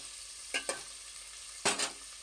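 Boiled mutton is stirred in oil and fat for biryani, giving a continuous sizzle from the pan broken by a few sharp scraping stir strokes, close and alone.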